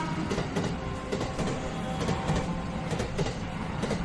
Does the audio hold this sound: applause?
no